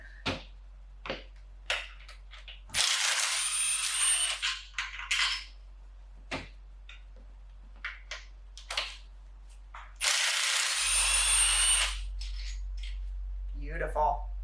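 Two bursts of a power tool, likely an impact gun, loosening three long 14mm bolts on a car motor mount during a K24 engine swap teardown, with scattered clicks and metallic clatter between them.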